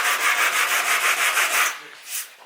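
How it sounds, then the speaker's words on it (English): A MKIV Toyota Supra body is block sanded for paint with 80 grit, giving close, loud rhythmic scraping strokes in a steady back-and-forth pattern that fade out near the end. "Sanding the Supra."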